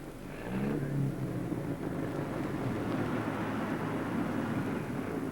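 Jaguar D-type racing car at Le Mans in 1956, its engine a steady loud drone heard from on board, holding a constant roar for several seconds with no talk over it.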